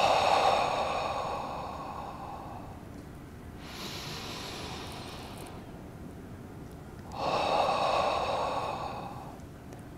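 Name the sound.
deep breathing during warm-up exercise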